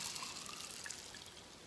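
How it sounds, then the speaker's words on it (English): Water is poured onto dry lentils in a small container, a faint, steady trickle and light splashing with quiet background hiss and no talking. "put them in a little container, and you're just going to put water on them"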